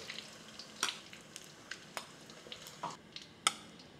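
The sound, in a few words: hotdogs frying in a pan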